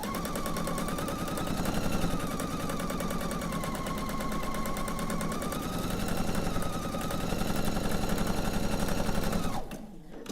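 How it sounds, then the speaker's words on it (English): A sewing machine with a 1/4 inch foot stitches quilt pieces, running in a steady, rapid mechanical chatter for about nine and a half seconds before stopping abruptly. "I might as well sew this one"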